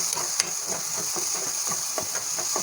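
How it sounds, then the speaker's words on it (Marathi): Beaten egg frying with softened tomatoes in a pan for egg bhurji, a steady close sizzle with regular scraping strokes of a spatula stirring throughout, no talking. "टोमॅटो आपले चांगले सॉफ्ट झाल्यानंतर या ठिकाणी मी फेटलेलं अंडं घालून"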